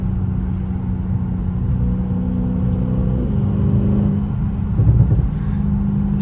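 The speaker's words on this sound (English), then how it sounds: "It's just the exhaust." Straight-piped Audi S8 exhaust idling with a deep, steady rumbling drone, close and loud, with a brief rev and burble near the end; no talk over it.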